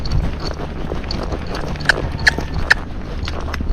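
Hooves of a young Missouri Fox Trotter gaited horse clip-clopping steadily under outdoor background noise, with a few sharper, louder hoof strikes standing out partway through.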